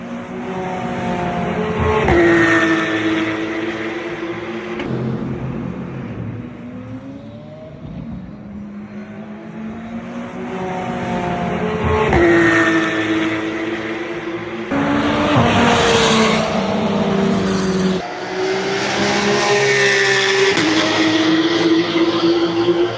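Mercedes-AMG GT R car accelerating hard past spectators at a car meet, a loud engine roar with rising gear-change sweeps, several passes swelling and fading over a continuous crowd and traffic background.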